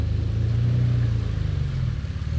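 A Lamborghini Countach engine idling with a deep, steady low rumble while the car is backed in, close and constant with slight throttle swells, no talking.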